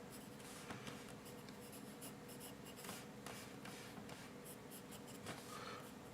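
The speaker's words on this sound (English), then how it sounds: "I'm using a 4B pencil here." A 4B pencil shading a drawing of hair on paper gives quiet, repeated scratchy strokes in an irregular back-and-forth rhythm, faint and close, with no talking.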